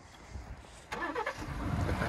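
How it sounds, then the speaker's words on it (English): A cold 2020 Ford F-150 Platinum pickup with a turbocharged engine cranks and catches about a second in, then settles into a steady, close rumble after a quiet start. "maybe that'll give my truck some motivation to start now"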